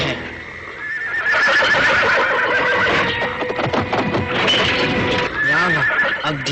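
A horse in an animated Jungle Book adventure whinnies loudly and repeatedly, close by, amid shuffling hoof clatter and movement, with a second shorter neigh near the end.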